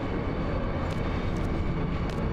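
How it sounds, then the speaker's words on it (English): A moving train in Final Fantasy VIII: a steady, dense rumbling roar with low mechanical drone, continuous and fairly loud, with faint higher clicks now and then. "Train, take us away."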